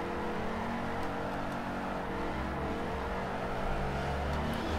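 A Chrysler SRT 300C drifts near the point of spinning out in Forza 4, its engine holding a steady, loud, continuous drone with tyre noise throughout and no pauses.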